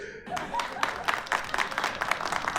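Studio audience clapping during a comedy joke-explaining segment, a steady patter of many hands that carries through with brief louder bursts, without speech over it.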